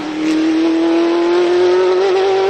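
Mercedes-Benz CLK-LM street version, a one-off homologation special based on the 1998 FIA GT race car, with a loud, steady engine note held close and rising slightly in pitch over a couple of seconds.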